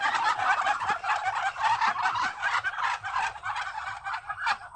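Ducks clamoring while being fed, a dense run of loud, rapid nasal quacks and chatter from several birds close by, continuous throughout.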